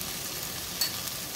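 Mutton frying in a pan for lapata with jeera rice, a steady soft sizzle with faint crackle and one small pop, close by and without talk.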